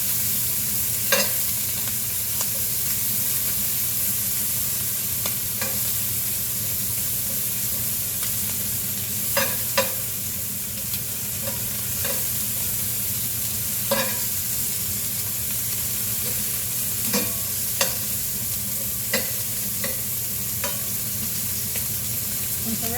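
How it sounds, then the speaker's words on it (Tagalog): Steak fat sizzling and frying in a hot pan, a steady crackling hiss running throughout with occasional sharper pops and spatters, close and fairly loud, with no talking. "Ayan yung ating steak guys. Ayan, i-ganon natin para maluto yung taba."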